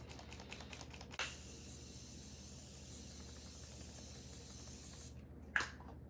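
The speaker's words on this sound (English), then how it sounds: "So I'm gonna spray my face with the Morphe." A long steady mist of Morphe setting spray hisses onto a face for about four seconds, preceded by a few quick clicks and followed by a short final spritz.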